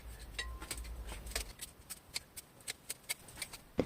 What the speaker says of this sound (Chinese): 先剪短过长的枝条